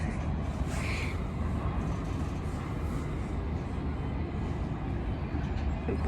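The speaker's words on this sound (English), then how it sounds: "That's the train moving down there." A train rumbles steadily in the distance, a broad continuous low roar heard outdoors with a faint whine above it and no talk.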